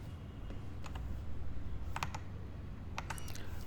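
Sparse, quiet clicks of keys being pressed on an Epomaker HE 65 MEC mechanical keyboard, a handful of light taps spaced irregularly over a low background hum.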